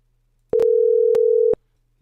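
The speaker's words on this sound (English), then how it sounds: "Yep, so I can hear the test sound." A Jitsi call test sound: one steady electronic tone lasting about a second, with soft clicks at its start and end, alone against silence.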